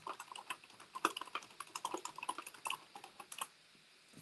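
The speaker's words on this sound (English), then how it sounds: "I'm typing in the chat for y'all." Rapid keystrokes on a computer keyboard during a live hands-on intro to SQL session, typed in quick irregular bursts of clicks, close and moderately loud, with no talking.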